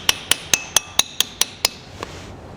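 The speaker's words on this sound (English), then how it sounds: "The last part is to install the grease cap with your ball peen hammer." A ball peen hammer taps a metal wheel-bearing grease cap into place with eight sharp, ringing metallic strikes at an even, quick pace, then one fainter final tap, all close and clear with no talking.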